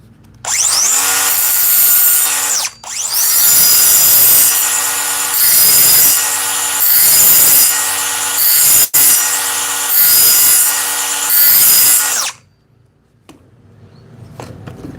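DeWalt DCF860 impact driver spinning a sharpening attachment, a loud close whirring grind that runs in long bursts with one brief break and then stops, followed by quiet rustling.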